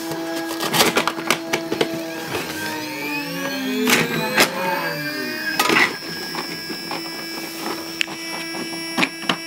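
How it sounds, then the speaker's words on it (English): Home-built CNC machine at work running a short program, with whining motors sweeping up and down in pitch, a steady hum, and clicks and knocks from the moving parts, close and continuous. "I'll try to start the machine with a small program so you can see this is turning"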